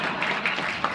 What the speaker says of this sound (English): There's very few claps on that one.